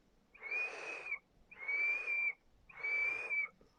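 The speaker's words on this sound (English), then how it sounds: "as you start to close it off, the airflow does start to whistle a bit" Airflow on a Drag X Plus vape kit, closed about three-quarters of the way, whistles during three separate draws, each a high steady tone over breathy rushing air, close up with brief quiet gaps between pulls.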